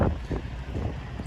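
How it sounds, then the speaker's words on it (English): Strong wind buffeting the microphone while an RV drives along, a steady low rumbling roar with gusty swells throughout, loud and close, with no voices. "I can't even feel this wind, but it's actually quite windy."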